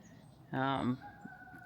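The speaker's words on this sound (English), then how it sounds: "up with the roosters, and he's certainly talking this morning." A rooster lets out a single short morning crow, loud and nearby, against a quiet background with faint birdsong.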